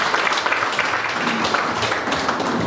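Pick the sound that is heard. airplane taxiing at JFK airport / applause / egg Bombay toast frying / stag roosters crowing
applause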